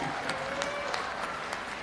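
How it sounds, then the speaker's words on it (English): Audience applauding graduates at a university commencement ceremony, a faint, distant wash of many hands with regular sharper claps standing out through the crowd. "Let's give a round of applause for all of our public diplomacy graduates."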